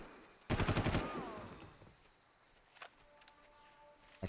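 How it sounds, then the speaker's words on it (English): A rapid burst of automatic gunfire in the Far Cry video game, a loud rattle of about eight shots followed by faint insect chirps and distant ambient clicks. "Shoot them and change where I am. Shoot again."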